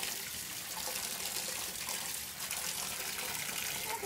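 Running water pours and splashes steadily as feet are rinsed off on the ground after a softening foot treatment, a continuous broadband wash with no pauses, heard fairly close.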